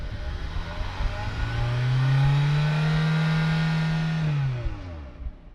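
A 2022 Hyundai Tucson engine revs up from idle to a sustained high hum, holds steady, then drops back, heard from outside the vehicle at close range.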